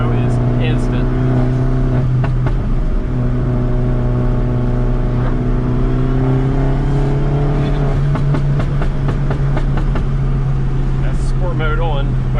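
Turbocharged engine of a 2012 Mini Cooper S pulling hard under acceleration, heard from inside the cabin as a loud, steady drone that holds and then swells again.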